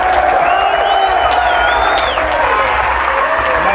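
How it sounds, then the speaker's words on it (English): A concert crowd at a metal festival in a Baltimore club applauds loudly, sustained clapping mixed with cheers and whoops, close and dense with shouting voices and whistles over it. "I want you to give them like a big fucking applause"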